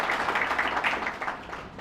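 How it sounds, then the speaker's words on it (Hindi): Audience applause at an inspirational session, a short burst of clapping that is moderately loud and continuous, with some crowd noise mixed in. "तालियां क्यों कम पड़ रही है?"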